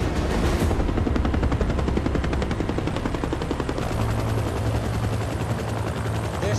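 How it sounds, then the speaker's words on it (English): A helicopter's rotor thumps in a rapid, steady chop, loud and close, with a low engine drone underneath throughout. "Your helicopter's here."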